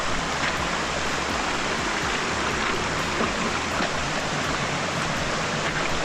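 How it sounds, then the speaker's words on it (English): A small, narrow but powerful waterfall pours down a rocky gorge on an Ayusai hiking trail, making a loud, steady, close rushing roar that continues unbroken throughout. "And here it is, the first small waterfall. It is small, narrow, but powerful."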